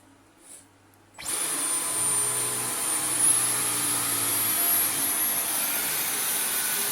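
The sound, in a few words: Dyson V15 Detect cordless vacuum cleaner vacuuming carpet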